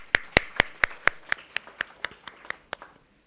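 Applause at a memorial lecture for faculty and an editorial team: a dozen or so sharp, evenly spaced claps close by over light background clapping, fading and stopping near the end.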